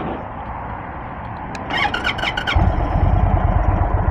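An Indian Sport Chief motorcycle engine cranks with a brief whirring starter and catches, then settles into a loud, steady, low rumbling idle close by, with no talking.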